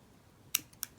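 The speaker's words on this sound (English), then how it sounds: "here I can just cut the thread" Scissors snip through beading thread on a handmade beaded ring, two quick crisp cuts close up in a quiet room.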